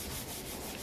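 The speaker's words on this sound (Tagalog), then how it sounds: "Ngayon, nagwe-wet sanding ako," A brief, steady rubbing hiss of 800-grit sandpaper wet-sanding back and forth across a painted motorcycle gas tank's top coat, close and soft.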